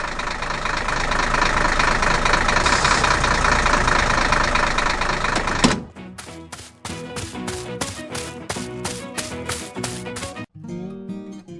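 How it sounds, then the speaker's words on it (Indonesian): A loud, steady tractor engine roar fills the first six seconds, then cuts off abruptly as music takes over. "Traktor sedang bekerja keras di hutan."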